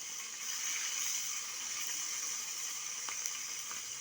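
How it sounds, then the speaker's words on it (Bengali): Tilapia fish fry in hot oil with a soft, steady, hissing sizzle that stays faint and even throughout, with no voices. "তেলাপিয়া মাছ ভাজা হচ্ছে"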